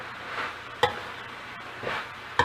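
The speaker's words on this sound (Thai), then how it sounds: "ผัดพอสลดก็เป็นอันใช้ได้นะคะ" Pork is stir-fried with holy basil leaves in a pan over steady sizzling, with a few sharp spatula scrapes and knocks against the metal at spaced intervals.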